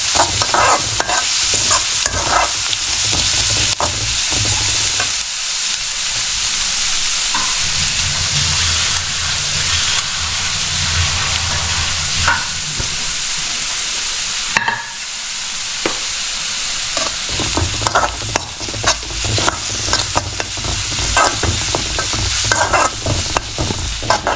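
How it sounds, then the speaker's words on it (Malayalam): Chopped amaranth greens stirred in a hot frying pan for a home-style curry, loud continuous sizzling with frequent scraping and tossing of the spatula, close up. "നമ്മൾ അരിഞ്ഞു വെച്ചിരിക്കുന്ന ചീര ഇതിനകത്തിട്ട് ഇളക്കി കൊടുക്കണം."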